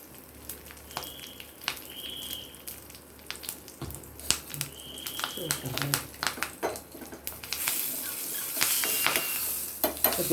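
Mustard seeds, urad dal and asafoetida crackle and pop in hot oil for tempering, with a rising sizzle and the clink of stirring. A voice talks over it at times.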